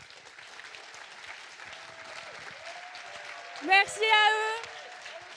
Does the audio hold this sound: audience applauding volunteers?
yes